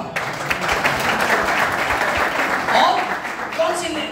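A church congregation claps and applauds steadily at moderate distance during a New Year service, with voices talking and calling out over the clapping.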